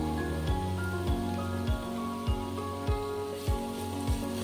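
Onion paste with a tablespoon of ginger, garlic and green chilli paste fries in a pan with a steady, close sizzle, broken by soft periodic stirring scrapes roughly every half second.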